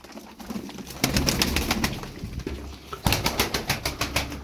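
A Takla tumbler pigeon flaps in flight with rapid, sharp wing claps in two rhythmic runs, close and fairly loud, over light background noise.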